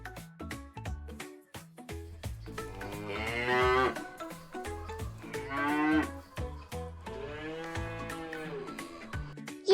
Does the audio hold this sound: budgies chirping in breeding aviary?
no